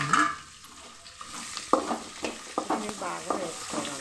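Peanuts fry with chopped onions, curry leaves, green chillies and seasoning seeds in a pan, a close sizzle broken by repeated stirring scrapes and clanks of the spoon, with no talking.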